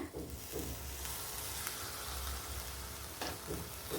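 Cooked lentils drop into bubbling jaggery syrup in a pan, bringing a soft, steady sizzle with faint stirring scrapes, low and continuous throughout.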